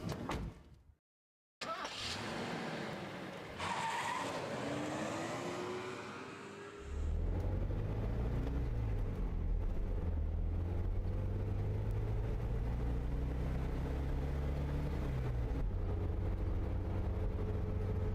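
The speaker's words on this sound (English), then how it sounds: "I pull out of the deserted parking lot and drive back to the mansion." A car in a horror visual novel starts up after a door thuds shut, then its engine settles into a steady low drone that swells and carries on as it pulls out of a deserted nighttime parking lot.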